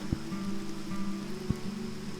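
Raindrops pattering directly on a microphone outdoors during a heavy downpour, with two sharp close taps over a steady hiss and a low hum, no voices.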